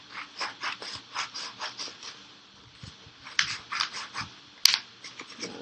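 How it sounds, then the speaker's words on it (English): Scissors snipping roughly through paper around a traced guinea pig outline, a steady run of small crisp clicking cuts close by with no talk. "So in order to help you, you can always just cut roughly around it."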